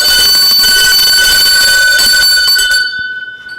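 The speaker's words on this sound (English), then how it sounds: "Alright, ring the bell." A bell rings continuously and loudly for about three seconds at a game show, its sustained bright ringing tones holding steady before cutting off and fading into quiet.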